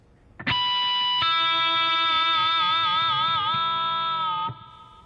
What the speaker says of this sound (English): And then I'm going to play a similar harmonic idea,